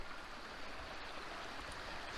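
Mountain streams merge on Žumberak mountain in Croatia as they flow toward the Sopot waterfall, giving a soft, even, continuous rushing babble of water heard alone at low level.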